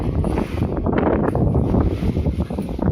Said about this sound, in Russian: Ветер, да? Вот это ветер. И волны какие.